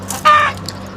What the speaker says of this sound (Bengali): দেখেন মুরগিগুলা মাশাল্লাহ অনেক সুন্দর ঘোরাঘুরি করতেছে